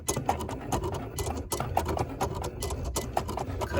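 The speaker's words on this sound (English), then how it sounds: "let the Cricut do its thing. As you can see, the knife is in there and it's actually cutting" A Cricut machine cutting a pattern with its knife, giving a close, busy mechanical whirring and ticking with rapid clicks and short motor bursts in an irregular rhythm.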